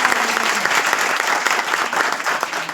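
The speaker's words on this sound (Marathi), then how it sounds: "त्यांच्यासाठी एकदा जोरदार टाळ्या" An audience at a village gathering claps loudly and steadily in a dense, sustained burst of applause, close and continuous throughout.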